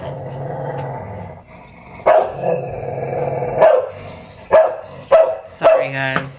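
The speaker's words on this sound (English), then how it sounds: "I'm gonna have to go because the dogs are being bad." Dogs growl steadily and then break into a run of sharp, loud barks near the microphone, with several distinct bursts spaced over the last few seconds.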